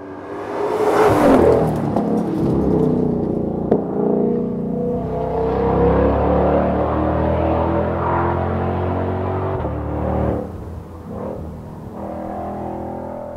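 A 2020 Ford Mustang Shelby GT500 engine revs hard and loud, climbing in a sustained roar that holds for several seconds, then drops off near the end before settling into a steady drone.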